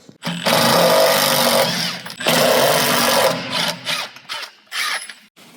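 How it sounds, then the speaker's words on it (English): An impact driver fitted with a square head bit backs two screws out of a 2x4 on a frame, giving two long, loud whirring bursts followed by shorter stuttering pulses, with no talking. "Now you can grab your impact with your square head bit and take these two screws out to remove this 2x4."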